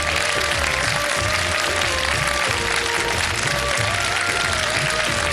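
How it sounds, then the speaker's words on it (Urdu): Studio audience applause rings out for a prize winner on a televised iftar game show, a dense, steady wash of clapping that stays loud and unbroken throughout with no one talking over it. "بھرپور تالیوں میں"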